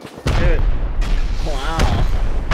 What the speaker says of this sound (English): Hit that sheet metal foundation. Alright, follow my rocket, okay?